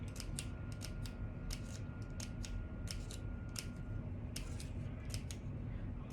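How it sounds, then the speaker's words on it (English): Repeated crisp snips of scissors cutting paper, quick clusters of sharp clicks over a steady low background hum. "you're just going to take your scissors and you're going to start marking all the way down"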